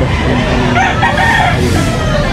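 A rooster, a local banded stag, crows at a game farm, its call loud and close over steady background noise and scattered voices.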